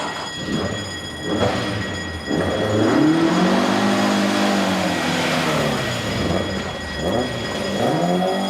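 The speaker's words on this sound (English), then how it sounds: "Car leaving the scene, heading west on Felden Road, green Ford Escort" A green Ford Escort pulls away from a nightclub and heads west along Felden Road, its engine note rising and then easing off in one steady, moderately loud pass with no voices.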